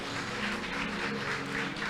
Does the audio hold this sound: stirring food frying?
no